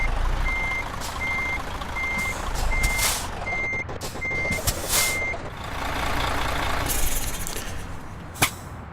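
In Euro Truck Simulator 2, a reversing truck sounds a regular series of evenly spaced warning beeps over low engine hum, followed by a hiss of air and a sharp brake click near the end.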